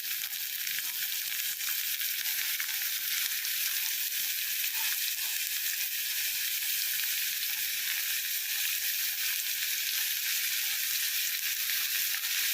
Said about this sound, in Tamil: ரொம்பவே வெங்காயம் வதங்கி இது ஆகணும்னு இல்லை